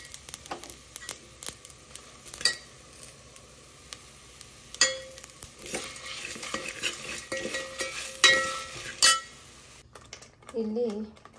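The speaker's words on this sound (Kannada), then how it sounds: "ಚೆನ್ನಾಗಿ ಈ ಥರ ಫ್ರೈ ಮಾಡಬೇಕು." Food fries and sizzles in a pan during home cooking for an Ugadi celebration, with steady sizzling, repeated stirring scrapes and clinks of utensils against metal, and a voice speaking intermittently over it.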